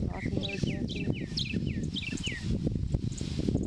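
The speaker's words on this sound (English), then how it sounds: "Mockingbirds out here." Bright, varied mockingbird song with repeated rising and falling whistled phrases rings out over a steady outdoor homestead background, fairly close and lively.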